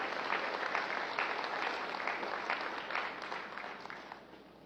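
Audience applause at a military farewell ceremony for an outgoing Chief of Staff, a steady crowd clapping that fills the room and fades slightly at the end.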